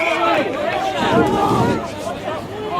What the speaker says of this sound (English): The Mazenod crowd is real lippy.